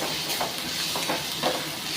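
Chopped spinach-like greens stirred in a hot pan for a crispy greens dosa, a continuous close sizzle with scraping, shuffling stirring strokes.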